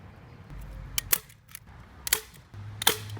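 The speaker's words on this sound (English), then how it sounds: "we've stapled this all the way around" A staple gun fastens chicken wire around a raised garden bed, firing three sharp, snapping clunks about a second apart, close up with nothing else around them.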